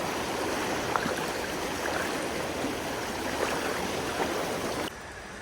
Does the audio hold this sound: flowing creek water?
yes